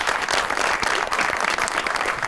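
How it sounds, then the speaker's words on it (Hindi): A studio audience on a Pakistani comedy talk show applauds Akram Udas with dense, steady clapping that stays loud throughout, with no voices over it. "अकरम उदास साहब के लिए बहुत सी ताली होनी चाहिए।"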